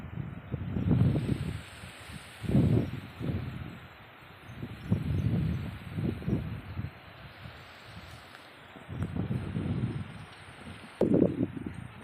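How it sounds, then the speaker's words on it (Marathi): Wind gusting through leaves beside a river, a broad rustling roar that swells and fades in repeated surges, fairly close and steady, with no voices. "वारा सुटलंय चांगलंच"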